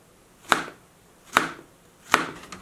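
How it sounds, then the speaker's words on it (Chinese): Knife slicing through a banana onto a cutting board: three sharp, separate knocks spaced about a second apart, close and fairly quiet, with no talking. "将香蕉切成片"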